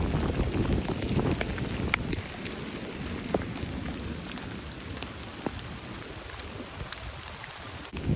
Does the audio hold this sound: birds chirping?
no